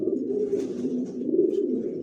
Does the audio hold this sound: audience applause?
no